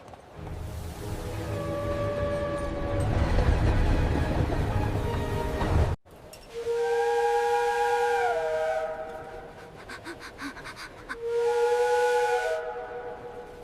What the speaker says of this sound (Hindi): मैंने अभी सीटी सुनी।